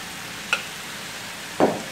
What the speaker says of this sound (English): I'm going to add my head of cabbage